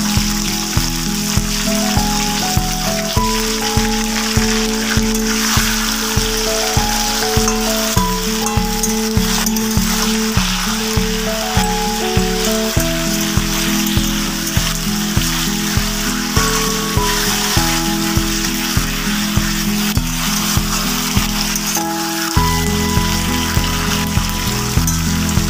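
Sliced radish and white and green beans fry in a pan for a methi palak vegetable dish, giving a continuous close sizzle over a steady musical backing that changes notes.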